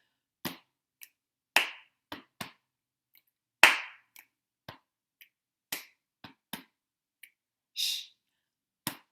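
Rhythmic finger snaps and hand claps in an action-song pattern led by a children's singing teacher, a dozen sharp hits spaced in a steady beat with silence between, near and fairly quiet, no voices.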